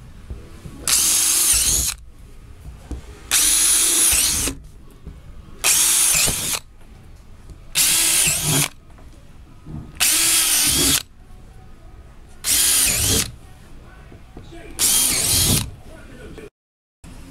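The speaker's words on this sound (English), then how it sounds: "you are going to use a 1/4-inch drill bit to drill the 11 holes" A power drill with a 1/4-inch bit whirs in seven separate bursts of about a second each, drilling holes around a Super Chexx game base, loud and close, with quiet pauses and faint handling noise between them.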